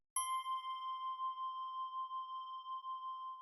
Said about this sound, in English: This time I have a bell. This one is very simple. It's literally just one singular note playing,